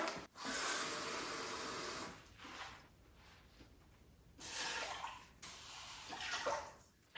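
Cold water runs from a tap into a cup in steady hissing spurts, briefly stopping and starting again, close by with no talking.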